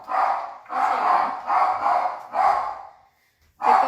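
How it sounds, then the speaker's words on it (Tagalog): A dog barks loudly and close up in five sharp bursts, four of them packed together before a short silence, then one final bark. "May aso din pala."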